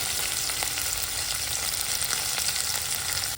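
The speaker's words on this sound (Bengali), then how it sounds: "আলুটা ভাজার সময় একটু নুন দিলাম।" Potato pieces fry in hot oil in a pan, a dense, steady, close sizzle with faint stirring scrapes and no voices.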